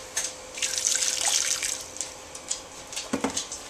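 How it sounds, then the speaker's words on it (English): Water poured from a cup into a bowl while making bouillon, a steady splashing stream through the first two seconds that thins to a few light trickles and drips, close and clear with no talking. "So I'm going to pour in 1 cup of water,"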